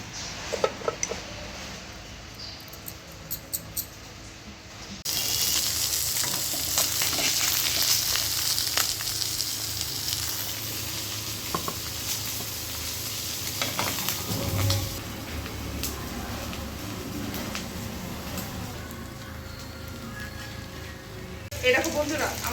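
Pabda fish frying in hot oil in a karahi, a steady close sizzle with occasional clinks of a utensil against the pan and some stirring noises throughout.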